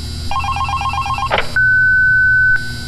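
A telephone rings in the game Five Nights at Candy's: a short run of rapid electronic trill bursts, a click, then a long steady beep tone before it cuts off, loud and alone.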